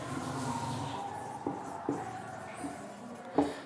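Chalk or marker strokes on a board during a physics lecture on capacitors, with a few quick, separate taps and scrapes over a faint background.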